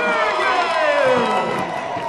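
A stadium crowd at a preseason soccer match between Seattle Sounders FC and FC Tucson, a broad roar of distant cheering and whooping that swells and holds, with a voice talking under it.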